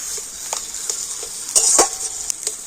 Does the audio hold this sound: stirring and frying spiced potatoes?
yes